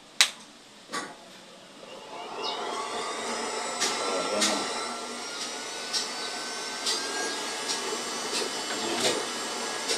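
A blower fan runs on a homemade waste-oil burner stove used to heat water, a steady broadband whoosh that builds after a couple of seconds and holds, with scattered clicks and knocks over it.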